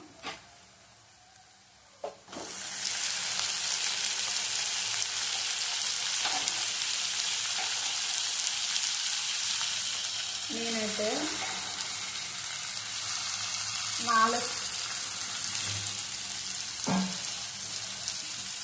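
Tomatoes and onions sizzle steadily in a pan after a quiet start, the broadband frying hiss running loud and continuous with occasional soft clinks and stirring knocks.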